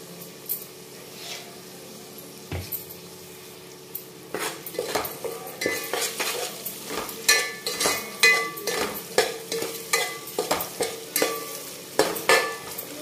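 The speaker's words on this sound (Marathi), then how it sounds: "आणि टोमॅटो शिजवून घ्यायचा आहे आपल्याला. त्यासाठी एकदम शिजण्यापुरतं मीठ टाकून घेऊ आपण." Tomatoes cut into large chunks cook in a pan with salt while utensils clink and scrape against the metal in a quick, steady rhythm over a soft background sizzle, with no voices.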